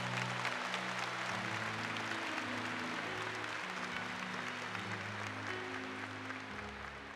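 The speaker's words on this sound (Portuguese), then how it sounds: "pode aplaudir" A church congregation applauds during a Catholic service, a steady wash of many hands clapping that fills the whole stretch evenly under a low musical drone, with no talk over it.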